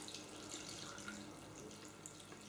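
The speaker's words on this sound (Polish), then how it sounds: "A zatem zalewam bulionem, żeby nam kapusta się nie przypaliła." Broth pours steadily into a pot of pointed cabbage being cooked with peppers, a soft continuous splashing rush with no talking.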